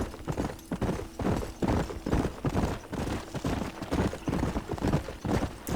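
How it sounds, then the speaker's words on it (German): Hooves of a ridden horse clip-clopping steadily in Red Dead Redemption, a close, rhythmic trot of sharp thuds that carries on throughout with little else over it. "Die armen Pferde, wenn die da wirklich drüber reiten"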